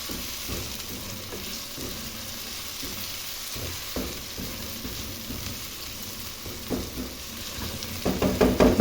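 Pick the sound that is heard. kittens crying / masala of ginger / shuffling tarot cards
masala of ginger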